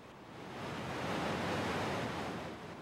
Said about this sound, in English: It's the roar of renewal as the spring flow hurtles down the rapids